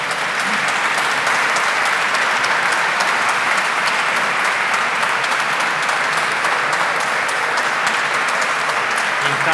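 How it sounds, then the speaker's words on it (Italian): Sustained, dense applause from a concert audience for the Orchestra Classica di Alessandria at an international guitar competition, loud and even throughout without letting up. "Vorrei far fare un applauso a quest'orchestra"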